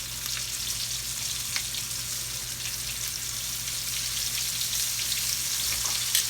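Onion rings deep-fry in hot oil with a steady, dense bubbling sizzle, close and even throughout with faint crackles.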